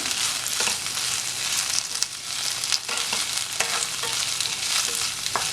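Okra fries in a pan over a medium flame, giving a loud, continuous sizzle with scattered crackles and light scraping as the pieces are stirred.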